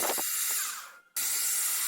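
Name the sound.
drilling valve body with 4 mm drill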